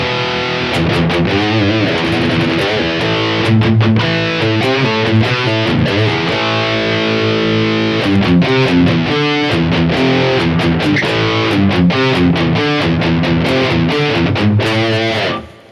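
Crunchy, overdriven electric guitar through a BOSS GT-1000 Orange amp model boosted by a Tube Screamer, Harley Benton Fusion guitar, playing a full-sounding riff of chords and stabs with short pauses, loud and close, no voices.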